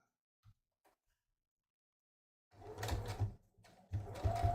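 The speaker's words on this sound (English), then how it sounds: "I'm just gonna carefully transfer this to my sewing machine." After near silence and a couple of faint clicks, a sewing machine stitches in two close, steady bursts separated by a brief pause.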